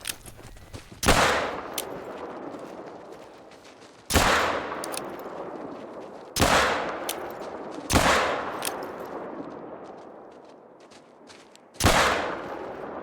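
Five loud, booming pistol shots at animals in theHunter, fired at irregular intervals, each with a long, fading reverberant tail, with no voices.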